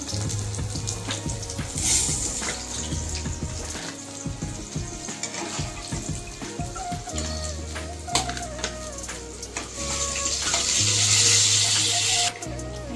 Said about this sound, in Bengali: আর একটা সাইড আমি ভালোভাবে ভেজে নেব